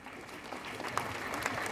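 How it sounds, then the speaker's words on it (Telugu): An audience at a school event claps in a brief, soft patter of applause that builds slightly, heard from a distance with no voices. "చప్పట్లు కొట్టండి మరి."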